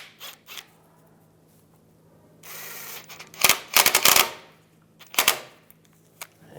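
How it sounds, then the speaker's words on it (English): A bolt is snugged down on a 1999-2005 Volkswagen Jetta A/C condenser, heard as sharp close ratchet clicks in a few quick bursts with a brief scraping rasp between them. "Push that in, get the bolt started. And I'll snug this down."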